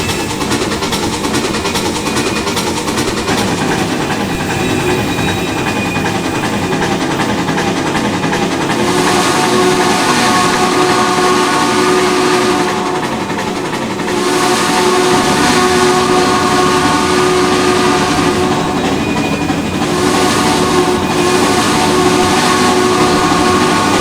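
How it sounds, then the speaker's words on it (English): A Southern PS-4 steam locomotive pulling the Crescent Limited in the simulator Trainz 2019, loud continuous rumble of running gear and rail noise with tonal whistle blasts sounding intermittently, near and sustained throughout. "Pretty good looking locomotive to watch in operation"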